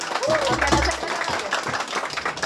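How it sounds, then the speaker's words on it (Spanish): Audience at a youth mariachi birthday celebration in Colombia claps and cheers steadily, a dense close wash of applause with voices shouting over it. "Y fuerte el aplauso que se escuche"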